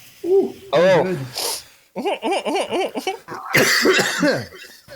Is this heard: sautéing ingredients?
no